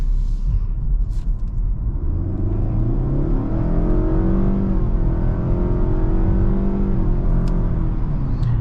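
A 2022 Nissan Altima accelerating in sport mode, its engine droning steadily loud from inside the cabin with a continuous rising rumble and whir, no talk over it.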